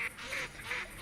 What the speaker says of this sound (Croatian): Ovo su i gadvali, American Black Duckovi.